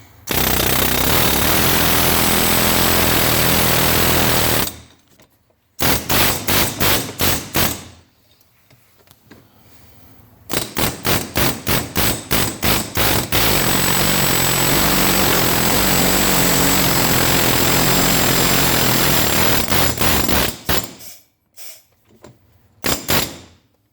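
An angle grinder with a small wire brush scrubs a 2008 Nissan Maxima front wheel hub, a loud, harsh continuous whine broken by several stops, brief restarts and stuttering bursts, with short quiet gaps between runs.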